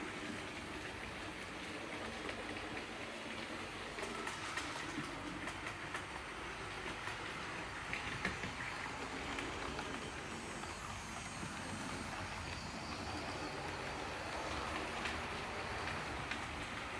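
Class 25 diesel locomotive hauling freight on a model railway, a steady quiet rolling rumble with faint clickety-clack of wheels over rail joints running continuously throughout.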